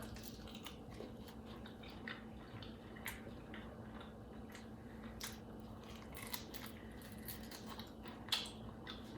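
Steady close-up crunching and chewing of a crispy roast turkey wing, with small crackling bites scattered over a constant background hiss.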